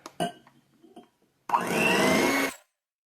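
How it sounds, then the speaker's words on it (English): A blender mixes peanut butter and coconut oil in a bowl with a loud, steady whir of about one second, preceded by a few soft knocks and clatters. "In my bowl I have here about a cup of peanut butter and approximately half a cup of coconut oil, and I'm going to blend those together."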